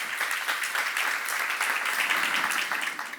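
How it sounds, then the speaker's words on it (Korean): Congregation applause fills a church seminar hall, a dense, steady wash of many hands clapping throughout, fairly loud and even, tapering slightly at the end, with no voices over it. "박수 한번 주세요"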